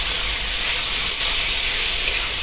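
Spiced potatoes fry in oil in a pan with a steady, dense hiss that holds evenly throughout, loud and close with no pauses.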